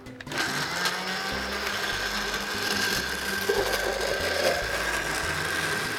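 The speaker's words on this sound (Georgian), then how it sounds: "დაბლენდერება კიდევა დაახლოებით 20 წამი" A blender whirs steadily and fairly quietly as it blends an Argentinian garlic sauce with a little water under a closed lid. The motor hum holds even for several seconds.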